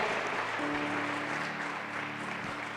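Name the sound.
congregation applauding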